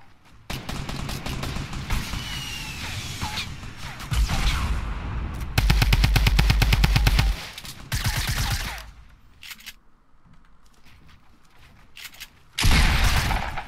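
Bursts of rapid gunfire in Fortnite crackle in quick succession, some long automatic volleys and sharp single shots, loud and close with short pauses between.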